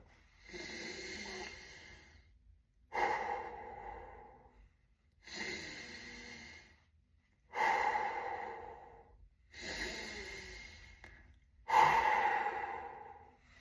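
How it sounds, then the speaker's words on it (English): Six slow, deep breaths are drawn in through the nose and let out through the mouth, each a soft airy rush several seconds long separated by short quiet pauses, close and clear as a warm-up exercise for Kecak chanting. "You first take a deep breath in through your nose and out through your mouth, and do it 3 times like so."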